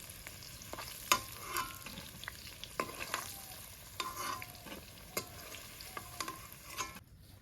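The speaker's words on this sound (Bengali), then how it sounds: "এই আলু আমাদের ভাজা হয়ে গেছে, এখন নামিয়ে নেবো।" Potato pieces fry in oil for a goat meat curry cooked at an outdoor picnic, with a quiet, steady sizzle broken by scraping stirs of a spatula against the pan, no voices.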